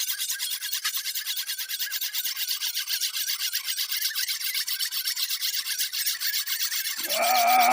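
Fast, steady, scraping strokes of a knife blade being honed and burnished on a steel, close and continuous for several seconds, ending in a brief metallic ring.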